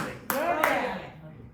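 Church congregation clapping hands in praise during a Spanish-language Christian sermon, two sharp bursts of applause about a third of a second apart, then fading under lingering room sound.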